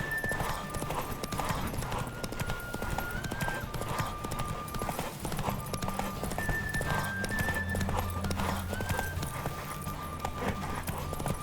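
Steady rapid hoofbeats of a galloping horse in a horse race in The Witcher 3: Wild Hunt, with occasional whinnies, continuous and close, over a busy low rumble; some talking underneath.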